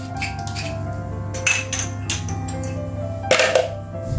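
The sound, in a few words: stirring cinnamon into granola mixture in a bowl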